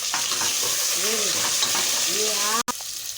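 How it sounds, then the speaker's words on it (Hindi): Chicken frying in a pan with onion as a spatula stirs it, a steady loud sizzle with scraping strokes throughout and a brief dropout near the end. "ये चिकन डालकर मैं इसे भून रही हूँ"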